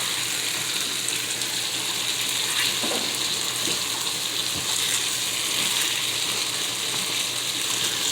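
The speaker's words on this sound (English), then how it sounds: "I like how those tomatoes fry up and just make their own sauce" Tomatoes and potatoes frying in a spicy curry sauce with turmeric, a steady, soft sizzle and bubbling that holds level throughout, with occasional faint stirring clinks and no talking.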